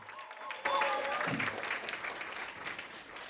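Audience applause fills a community dance competition hall in Arlington, a steady wash of clapping that starts abruptly and stays fairly loud, with some voices and cheering mixed in.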